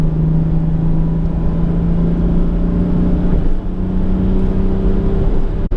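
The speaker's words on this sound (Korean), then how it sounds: "교동대교 지금 진입을 했습니다. 한번 밟아보겠습니다." A Subaru Outback accelerates hard onto Gyodong Bridge, heard from inside the cabin as a loud, steady engine drone with a rising tone and a brief shift midway, alone without talk.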